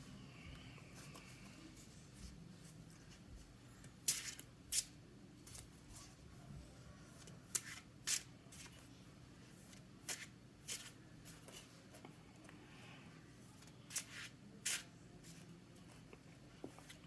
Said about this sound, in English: I shuffle these cards to my deck.